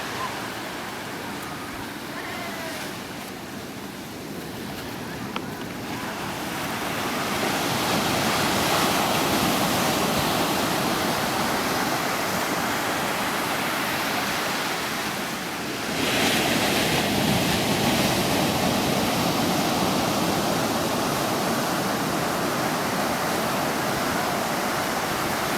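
Ocean surf washing onto a beach where jeans get a sea-water wash, a steady broadband roar of breaking waves with wind buffeting the microphone, swelling louder after a few seconds and dipping briefly midway before resuming.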